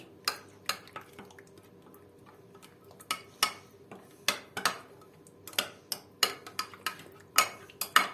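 A spoon stirs a sauce in a bowl while homemade potato chips are prepared in a home kitchen, giving a series of light, irregular clinks and scrapes that quicken and grow louder toward the end, with no talking.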